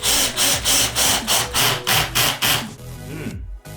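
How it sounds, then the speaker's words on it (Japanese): A Ginour 12V cordless drill driver runs a 35mm screw into joined 1x4 wooden boards in rapid pulsing bursts, about ten even surges close up, ending in a rougher grind and then a sudden stop. "じゃあちょっとこの 1x4 同士でこの 35mm のビスを打ってみたいと思います。"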